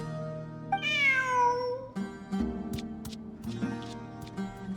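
A single drawn-out cat meow in Genshin Impact rises and falls over soft, steady background music, followed by light clicking sounds.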